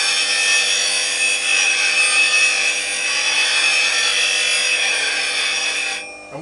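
A woodturning tool's back heel is ground on a sharpening grinder set up with a Wizard Jig, producing a loud, steady, hissing grind up close that holds evenly before cutting off abruptly at the end.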